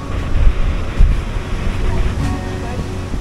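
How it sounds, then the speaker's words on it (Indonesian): Strong gusty wind buffets the microphone at Kuta Beach, Bali, with rumbling surf underneath and a few louder gusts. "untuk anginnya cukup kenceng juga nih teman-teman ya"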